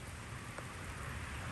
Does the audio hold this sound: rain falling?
yes